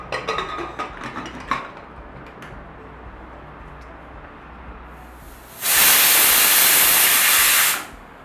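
Green gram cooks in a pot, with a few light metallic clinks at the start, then a quiet stretch, then a loud, sustained hiss of steam for about two seconds that stops sharply.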